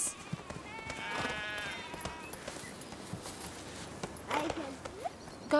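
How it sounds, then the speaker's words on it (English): Hooves of a white horse carrying a rider in a British period drama, a soft uneven clip-clop amid outdoor ambience with brief animal calls and distant noise. "It's a man on a white horse."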